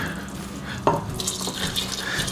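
Cream mixture being stirred into a pot of venison chowder, giving a soft liquid swishing with a brief clink of the spoon and a gentle simmering bubble underneath, close up.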